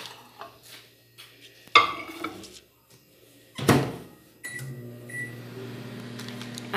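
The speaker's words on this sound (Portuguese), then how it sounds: "Eu vou colocar aqui no micro-ondas." Microwave oven in a home kitchen used to reheat sausage: a door clunks and bangs, then a sharp slam, followed by a steady low electric hum as it runs, close and fairly quiet.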